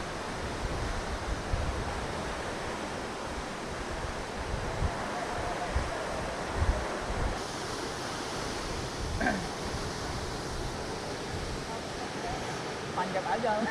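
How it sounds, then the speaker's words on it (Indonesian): The 50-metre Curug Simarinjung waterfall produces a dense, steady roar of falling water close by, filling the whole stretch with a constant rushing wash and faint voices now and then. "kita langsung bisa menikmati pemandangan air terjun setinggi 50 meter yang indah ini"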